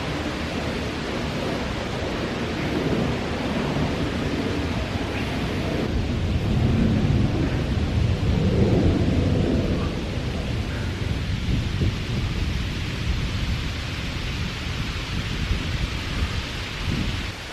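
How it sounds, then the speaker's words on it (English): Wind rushes through the trees over a grassy spot in Amager, a constant broad, roaring hiss that swells briefly midway and stays fairly loud throughout with no one talking. "Just lying on some grass and just hear the wind in the trees"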